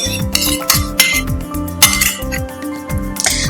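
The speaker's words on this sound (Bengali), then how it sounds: "150 গ্রাম মতন টক দই আমি নিয়েছি, এটা ভালো করে ফাটিয়ে আমি উপর থেকে ঢেলে দেব।" Sour yogurt being beaten in a bowl, rapid close metallic clinks of a spoon against the rim in a quick rhythm, loud with a faint musical tone beneath.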